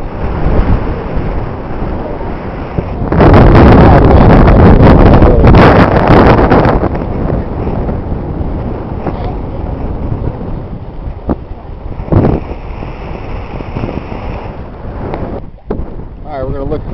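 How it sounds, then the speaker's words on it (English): Wind buffeting a microphone on a boat out on the Everglades waterway, a loud rushing roar that swells into heavy gusts, with water and hull noise beneath and a few brief knocks. "Enjoying the wind."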